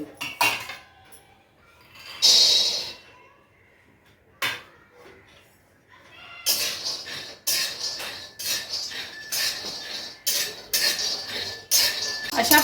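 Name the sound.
peanuts being dry-roasted and stirred in a kadhai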